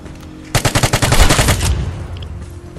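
A close, loud burst of automatic gunfire from the video game Vigor, about ten rapid evenly spaced shots over a second, followed by a fading echoing tail.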